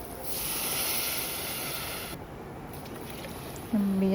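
Soaked rice water poured into a cooking pot, a steady broadband rush of liquid lasting a few seconds, close and fairly loud, ending in a brief clatter.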